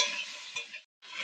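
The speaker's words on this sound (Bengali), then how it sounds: "নাড়াচাড়া দিয়ে নেবো" Beans and carrots stirred in a pan, a brief close scraping sizzle with a few soft scrapes of a utensil, pausing briefly before resuming.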